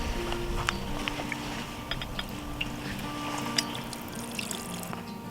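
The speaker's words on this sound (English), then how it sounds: "I can pop the mouthpiece off, and I can use that to fill up my water bottle" Water pours steadily from a hydration pack, its mouthpiece removed, into a water bottle at a motorcycle campsite, a low continuous trickle with faint clinks and splashes, no voices.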